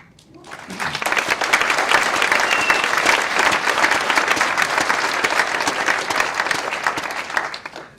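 Sustained audience applause at a Rare Disease Day 2018 event, rising quickly and holding a dense, steady clatter of many hands for several seconds before tapering off near the end.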